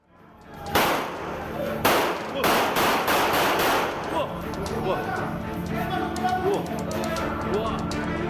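A pistol is fired repeatedly at the roof of an office in Percut Sei Tuan, Deli Serdang, North Sumatra. Loud, sharp shots crack in an uneven series, followed by lingering noise, with a voice speaking over them.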